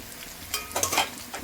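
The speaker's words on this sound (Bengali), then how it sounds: "রসুন আর লঙ্কাটা হালকা করে ভেজে নিয়েছি" Garlic and chili frying in a pan, a close sizzle with a few quick scraping stirs over a short moment.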